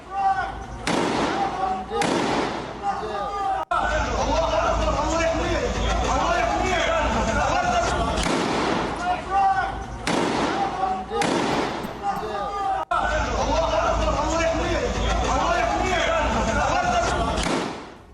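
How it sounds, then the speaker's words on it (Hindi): Gunfire exchange in the West Bank between Israeli troops and Palestinian forces, repeated sharp cracks and bursts over a constant roar, with a news voice talking over much of it. "वेस्ट बैंक से ही बड़ी खबर आ रही है जहां पर आमने सामने की फायरिंग हो रही है।"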